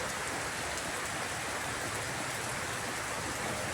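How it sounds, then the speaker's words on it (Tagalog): Heavy rain pours down in a steady, dense hiss, loud and unbroken, with no voices over it. "lakas na naman po ng ulan."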